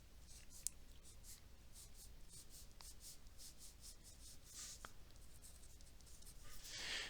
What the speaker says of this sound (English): So let's draw that line.